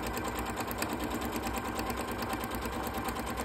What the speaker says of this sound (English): this is basically sewing it from point to point. And back over.